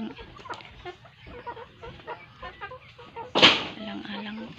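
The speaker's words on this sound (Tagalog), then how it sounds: "Alagang manok." Pet chickens cluck softly in short bursts near a house among coconut trees, while someone talks over them and one sharper squawk stands out near the end.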